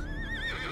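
A single short horse neigh from the strategy game Battle Realms, a quick wavering whinny heard clearly on its own.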